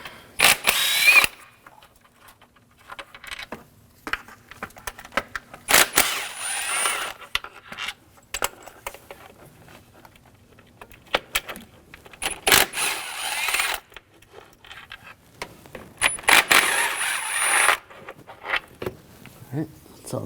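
A power tool whirs in repeated bursts as bolts are removed from a 2007-2013 BMW 328i 3.0L inline-six engine, with metallic clinks and rattles of parts between bursts and a person talking at moments.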